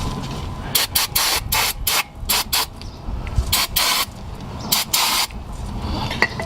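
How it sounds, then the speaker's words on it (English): Brake cleaner is sprayed onto old brake hardware during a front brake job on a 2005-2010 Honda Odyssey, in a series of sharp, loud hissing bursts of varying length, closely spaced with short pauses between. "I'm going to go ahead and spray these old ones off with brake cleaner."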